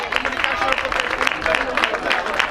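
Audience applauding third-placed youth male rowers from Tirán at a traiñeiriña rowing regatta in O Grove, steady dense clapping with crowd murmur running throughout.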